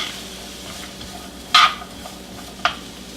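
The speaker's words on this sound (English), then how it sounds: "You can hear it sizzling, of course" Steady low sizzling of onions and bell peppers frying in a pan, with a couple of sharp scraping stirs cutting through.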